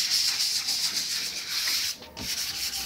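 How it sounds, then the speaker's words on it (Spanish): Steady rhythmic wet sanding with waterproof sandpaper on a spray-varnished kitchen corner cabinet, close and continuous, with a brief pause near the end before the scrubbing resumes. "una sentadita con lija de agua."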